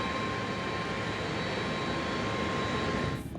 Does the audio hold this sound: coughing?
no